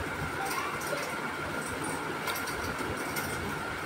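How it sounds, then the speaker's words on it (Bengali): Trains pass on tracks on both sides in a steady, droning rumble with faint metallic squeals over the top, heard from close by throughout. "এই দেখো এদিক ওদিক দুদিকেই ট্রেন যাচ্ছে"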